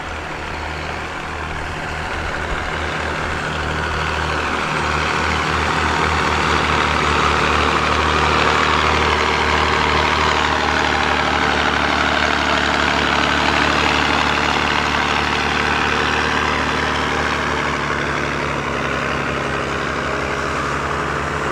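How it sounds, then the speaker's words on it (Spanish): A tractor engine runs steadily while it opens furrows for planting potatoes in an Aymara field at Pillapi, near Tiwanaku, a loud, continuous low diesel drone that swells after the first few seconds and holds with no speech. "En este caso tenemos lo que es el tractor, quienes van abriendo los surcos."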